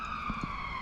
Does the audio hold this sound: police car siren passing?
yes